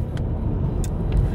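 A car drives along a road, heard from inside as a steady low engine and tyre rumble with a few faint brief clicks on top, no talk.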